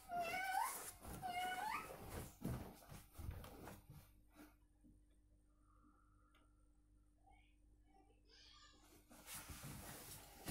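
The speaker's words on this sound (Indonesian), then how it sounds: "Kucing hitam." A black cat meows twice in quick succession, fairly close and clear, followed by a quieter stretch of soft ticking and faint background noises before a brief louder burst at the end.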